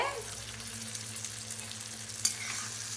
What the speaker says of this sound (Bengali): একটুখানি ভেজে নিই তারপরে আসছি